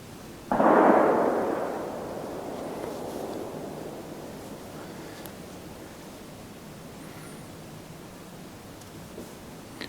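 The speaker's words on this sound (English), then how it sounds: "all this shooting is normal for up here" A single distant gunshot in the countryside, one sharp report that rolls and echoes away over a couple of seconds before fading into quiet outdoor ambience, with no talking.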